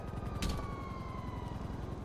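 Police siren in the video game GTA 5 Online, a quiet wailing tone sliding downward over a low rhythmic engine-like rumble, with a short burst of noise near the start.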